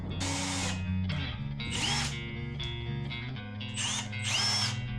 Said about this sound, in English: Then I'm drilling 5mm holes.